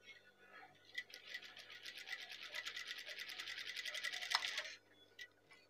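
An electric sewing machine stitches the collar of a hand-drawn Pekalongan batik shirt, running as a steady, fast mechanical whir for about four seconds before stopping, with faint handling noises around it.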